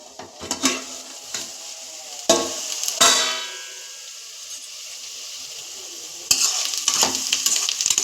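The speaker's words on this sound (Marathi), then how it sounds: "चांगलं परतून घेऊया।" Red amaranth greens sautéed in a pan, Konkan-style, with bursts of sizzling and spatula stirring scrapes that flare up and then settle into a steady hiss, up close.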